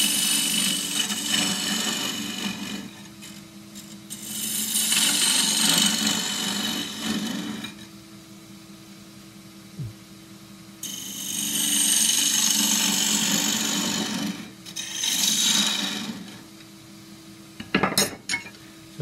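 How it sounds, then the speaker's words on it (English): A 1/4 inch spindle gouge cuts a cross-grain forest sheoak box on a lathe in several separate bursts of scraping, rasping contact. Quieter motor hum fills the gaps between cuts, with a few sharp knocks near the end. "So that was the 1/4" spindle gouge"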